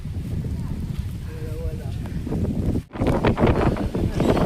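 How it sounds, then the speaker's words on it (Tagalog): Strong wind gusts on a foggy, rainy mountainside in Tanay, Rizal, roaring and buffeting the microphone steadily and close, with a voice briefly heard beneath the rush. "Sobrang lakas ng hangin dito."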